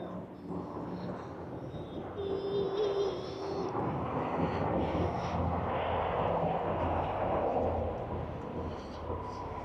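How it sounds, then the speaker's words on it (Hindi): A helicopter passing overhead on a visit to Portmeirion in North Wales, a broad rumbling roar swelling in the middle and lingering, fairly distant and muffled, with faint wind and background noise. "हेलीकॉप्टर इधर आया है"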